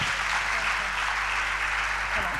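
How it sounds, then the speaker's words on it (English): Audience applause at a financial economics seminar after a speaker's introduction, a dense, steady patter of clapping over a low room hum, continuous and fairly loud through the short stretch. "Please give her another round of applause."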